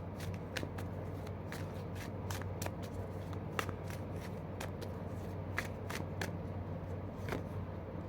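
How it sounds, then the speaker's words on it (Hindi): Tarot cards shuffled and drawn in a steady stream of crisp slaps and riffles, close and clear over a constant low background hum, with no talking. "टैरो से देख लेते हैं 3 कार्ड"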